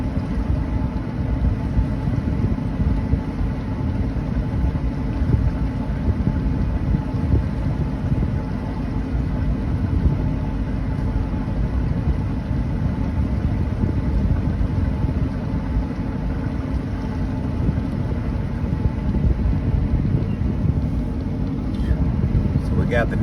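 A motorboat engine drones steadily and loudly on Lake of the Ozarks at midnight, a constant low rumble with wind and water wash, while people talk over it throughout.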